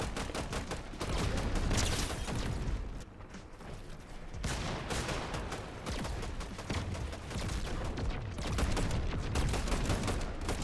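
Dense, continuous gunfire from a shooter video game's endgame, with overlapping bursts and rapid automatic fire layered into a loud, busy din that barely lets up.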